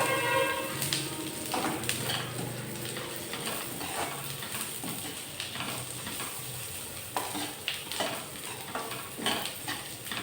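Spices or seeds frying and being stirred in a spoonful of ghee in a pan, a steady close sizzle with scraping stir strokes throughout, no voices.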